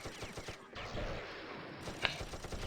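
Mounted machine gun fired from the back of a vehicle in a first-person shooter match, heard as a dense, sustained burst of rapid gunfire with shots layered amid busy battle noise, one sharp crack standing out near the end.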